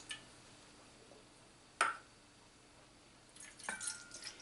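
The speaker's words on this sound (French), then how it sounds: "On va mettre tous les liquides ensemble." Liquids are poured together for an Asian-style sauce, giving a sharp splash or clink, then a short trickling, dripping pour near the end, all faint against a quiet room with no talking.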